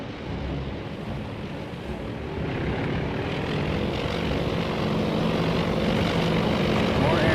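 Propeller aircraft landing on the carrier Yorktown in World of Warships, a continuous droning engine roar that steadily grows louder and nearer over ocean noise.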